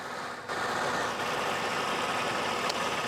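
A Mercedes CLK 350 engine idles steadily and quietly up close, a low continuous hum with no voices.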